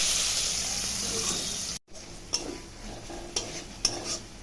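Cumin seeds and onion fry in a pan with a loud, close sizzle that breaks off briefly. It comes back quieter, punctuated by sharp stirring clicks and scrapes.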